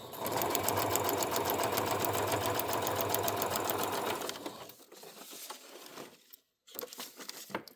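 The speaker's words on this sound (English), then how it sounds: "Let's turn on my machine. I just do 4 stitch length. So here I'm just gonna sew across." Sewing machine running at 4 stitch length, stitching across a paper-pattern makeup bag: a fast, even, rapid needle chatter held steadily for about four seconds, then it stops, followed by faint handling noises and rustling.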